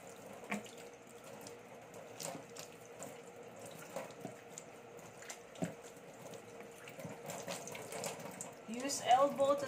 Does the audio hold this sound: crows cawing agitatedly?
no